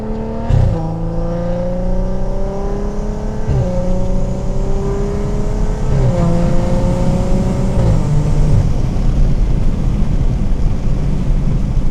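A big-turbo BMW 340i accelerates hard, its engine note climbing loudly through the revs with several sharp drops at each gear change, heard close from inside the car.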